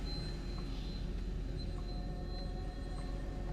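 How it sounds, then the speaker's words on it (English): A vacuum cleaner runs somewhere in the background, a steady, even drone with a faint hum that continues unbroken throughout, with no voices over it. "if you can hear a vacuum in the background, I really do apologise"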